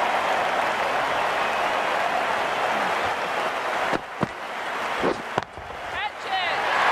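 Excited crowd cheering and applauding at a women's cricket match, a loud continuous roar filling the clip, with a few sharp claps or bangs standing out near the end.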